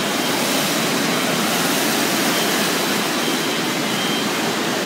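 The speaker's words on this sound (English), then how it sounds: "This is the water park." Loud, dense wash of rushing water and crowd roar fills an indoor water park at a Great Wolf Lodge, a constant roar with no breaks and no clear voices.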